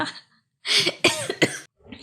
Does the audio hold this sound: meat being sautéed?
no